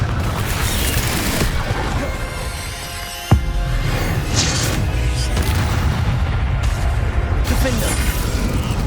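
A Confringo blasting spell in Hogwarts Legacy, a sharp booming impact standing out from steady combat noise, with a voice talking throughout.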